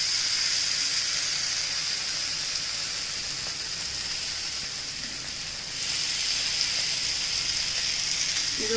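Mushroom tikka pieces sizzle in hot oil in a pan over a low flame, a steady, even hiss that runs on throughout.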